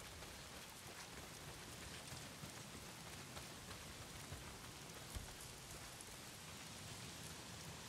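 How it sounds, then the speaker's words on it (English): Heavy rain pours continuously in the video game Days Gone, a dense, even hiss of rain on surfaces with scattered drops and no voices. "Well, not if it's pissing down the rain."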